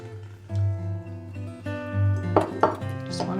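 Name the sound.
egg being cracked into a small dish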